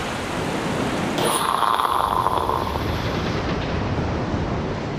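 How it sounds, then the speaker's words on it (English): Steady heavy rain hisses throughout a dramatized flood scene, with a low rumbling roll of thunder swelling in after about a second and slowly fading under the downpour. "As the rains came down"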